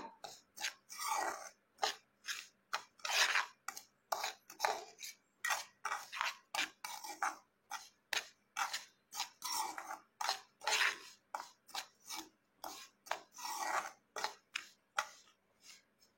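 Semolina (rava) for laddu is roasted dry in a pan, with regular rhythmic scraping and stirring strokes of a spoon, close and fairly quiet, repeating steadily without pause.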